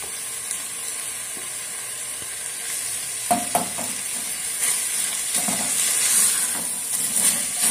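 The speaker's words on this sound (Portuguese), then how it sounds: "agora eu vou estar acrescentando aqui a cebola para estar dourando junto" Onion frying in a pan together with pork ribs for canjiquinha, a continuous soft sizzle with intermittent stirring scrapes that grow busier toward the end, heard up close without speech.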